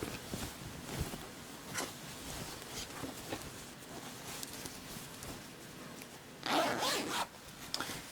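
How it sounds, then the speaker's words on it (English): An invisible zipper on a sewn skirt is zipped up at the waist seam, with soft scratchy rasps and handling rubs throughout and a louder, longer zip stroke near the end, close and alone. "If we zip that up really nicely, you see that our join there at our waist seam is beautiful"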